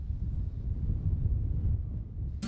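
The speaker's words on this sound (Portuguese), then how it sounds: "o único ruído é o do vento" Wind blows high above the forest canopy on a cable car ride at 1,750 metres in Costa Rica, a steady low rumble with no voices, ending in a brief click.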